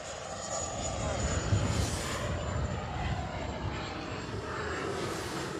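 An FMS F-86 Sabre 80mm EDF model jet flies past in windy conditions, its steady whooshing ducted-fan whine swelling as it nears and then fading, heard from a moderate distance.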